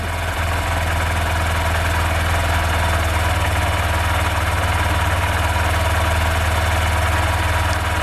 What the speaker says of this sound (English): if I rev the engine a little bit